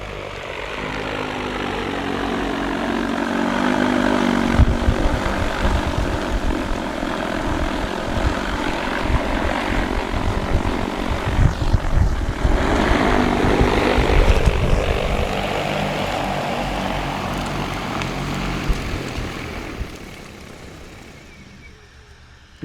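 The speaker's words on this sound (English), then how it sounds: "The drone knows that it's out of material, and as you can see, it is on its way back and it will safely return to home." An AUAV A70 agricultural spreading drone flies back toward its home point, its rotors giving a loud sustained buzzing drone that rises and holds, then fades away in the last seconds.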